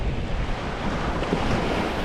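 Steady roar of ocean surf at a beach where a river meets the sea, continuous broadband wash with heavy wind buffeting the microphone and no voices.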